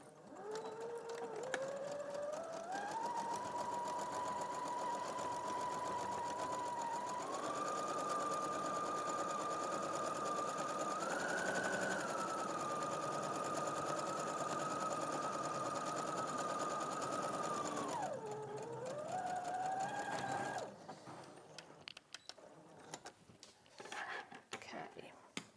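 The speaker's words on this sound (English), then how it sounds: "I'm just going to use an ordinary stitch, and I'm going to do a reverse stitch at the top." Sewing machine stitching an ordinary straight seam with a reverse stitch, a steady close whirring hum whose pitch rises as speed builds, dips briefly near the end, then stops, leaving quiet handling sounds.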